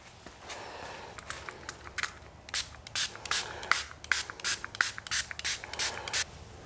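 Repeated bursts of spray cleaner misted onto a Lincoln MKX headlight, a dozen or so short hissing puffs in an irregular rhythm, close and fairly quiet with no talking.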